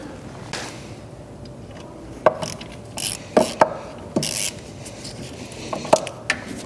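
A hand ratchet loosening a bolt on a 28-year-old Cougar 550 snowmobile: scattered clicking ratchet strokes and short metallic rasps in bursts, close and fairly clear against a quiet background, no talk.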